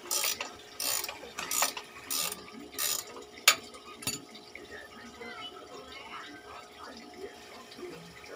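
Metal clicks and ratcheting from a 19mm socket wrench loosening the axle nut on a motorcycle rear wheel, several short bursts in the first half, then quieter mechanical handling in a workshop setting.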